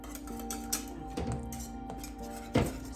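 Spoon stirring thickening chocolate pie filling in a pot, a few soft scraping and clinking knocks against the pot at irregular intervals, faint and close, with a quiet background hum.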